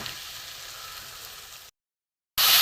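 Ground masala spice paste hits hot oil in a pan for a Bengali fish-head curry, giving a steady close sizzle and frying hiss, then a brief gap of silence before a loud burst of sizzling returns.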